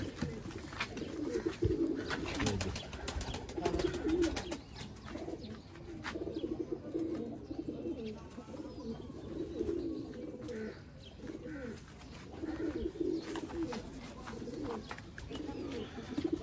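Pigeons coo in soft, repeated throaty phrases with a steady rhythm at a pigeon-keeping loft in Sialkot, close by and continuous over light background noise.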